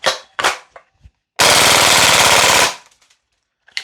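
An HK UMP .45 gas blowback airsoft rifle by VFC/Umarex fires loud close-up bursts: a few short shots, then one sustained rapid burst of about a second, followed by fainter clicks.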